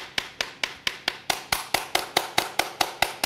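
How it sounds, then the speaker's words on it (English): A chocolate mould rapped repeatedly against a surface to bring air bubbles up, giving a steady run of about fourteen sharp, close knocks at an even, brisk pace with no voices. "Just tapping the mould to bring any of the air bubbles to the surface."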